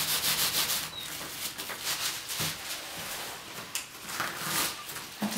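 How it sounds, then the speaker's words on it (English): Soft hands gently rubbing a nuno felt scarf all over, a steady close swishing friction with small rhythmic pulses, quiet and alone without talk. "So I'm just going to give a gentle rub like this all over"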